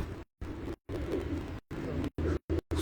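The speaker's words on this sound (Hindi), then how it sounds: "उस्ताद हाफिज वेद ग्रुप उस्ताद सईद मसीह वाले 5वां कबूतर बैठ रहा है माशाल्लाह, 6वां कबूतर इनका बंद है।" Pigeons on a rooftop coo in soft, low, close bursts, chopped by short gaps into a quick series of throaty calls with no talk.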